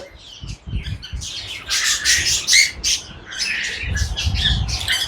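Many small exotic birds in a pet shop at an animal and bird fair chirp and squawk together in a busy, continuous chorus, loud and close, with scattered sharp calls and some fluttering.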